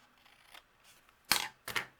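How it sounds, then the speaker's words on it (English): Scissors trimming excess paper while making a greeting card: two quick, close, crisp snips in a row after some faint handling rustle. "That's where you want to bring in your scissors and just trim off that excess."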